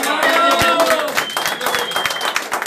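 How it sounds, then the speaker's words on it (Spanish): Applause for boxer Julio César Vázquez at an asado gathering of former boxers at a house, a short burst of close clapping mixed with loud overlapping voices and chatter. "Un aplauso a, a Julio César Vázquez."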